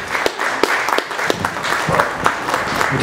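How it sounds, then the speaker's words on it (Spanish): An audience at a cultural heritage lecture in Guerrero claps to welcome an architect, a close, moderately loud patter of hands with some sharp individual claps standing out. "me hace el favor de recibir con un aplauso al arquitecto Ruz"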